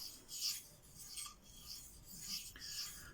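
A knife blade is drawn across a Venev diamond sharpening stone, 700 grit, giving soft, smooth raspy strokes in a repeated back-and-forth rhythm, quiet and close with no talking.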